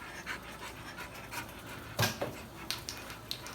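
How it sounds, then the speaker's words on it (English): A dog pants close by in quick, rhythmic breaths, fairly soft, with a louder huff or snort partway through and a few faint whimpering sounds, no talking. "So there's Griffin the Wonder Dog."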